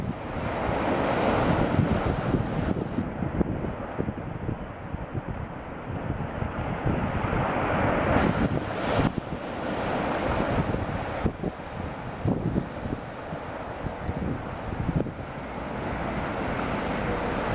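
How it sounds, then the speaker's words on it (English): Heavy surf roars steadily at Terrace Beach, big waves crashing and rolling in with gusty wind buffeting the microphone throughout. "Big waves out there."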